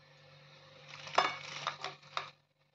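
Crisp crunchy crackles and light clinks as fried paneer pakoras are handled on a plate, a few sharp crunches over about a second, close and fairly quiet.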